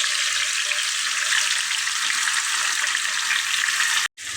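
Tomato pieces fry in sesame oil in a pan with a loud, steady hiss and sizzle, which cuts out briefly just before the end.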